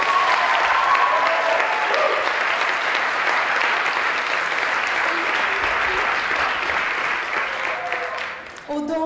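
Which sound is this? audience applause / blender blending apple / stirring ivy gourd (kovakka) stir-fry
audience applause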